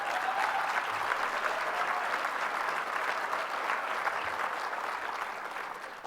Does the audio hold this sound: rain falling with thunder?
no